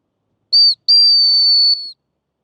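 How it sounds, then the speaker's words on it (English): A high, piercing dog training whistle blown twice outdoors to recall a Weimaraner: a short blast, a brief gap, then a longer steady one, loud and close with no other sound. "So when I blow the whistle, Sky should come back and Magic won't"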